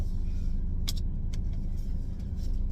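A car pulls up to a house, its low engine rumble steady and close, with a brief metallic jingle and a couple of light clicks partway through.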